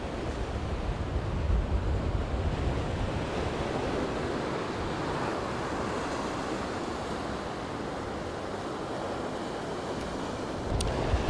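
Ocean waves and wind roll steadily at a rocky, dangerous Gujarat beach without proper sand, a continuous broad roar of surf and gusting air with no voices.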